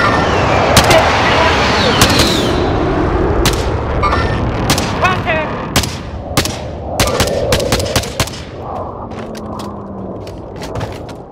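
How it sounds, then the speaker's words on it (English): Precision airstrike in the video game CoD Warzone, a string of sharp blasts and booming explosive impacts over a rumbling battlefield, loud early and then thinning into scattered distant pops. "Be advised, friendly precision airstrike inbound."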